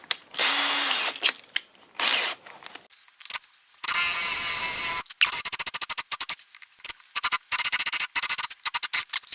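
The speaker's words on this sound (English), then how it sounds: "I'm drilling into concrete." A power drill grinds into concrete in repeated bursts, starting and stopping with short pauses between runs, loud and close.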